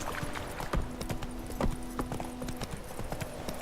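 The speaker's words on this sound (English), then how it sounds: "let's go back on our horse. Of course, it should just continue walking." Horse hooves clip-clop at a steady walking pace in The Witcher 3, a regular rhythm of moderately close thuds over a soft background ambience.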